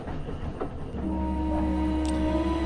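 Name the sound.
train arriving, from the video game Around the World in 80 Days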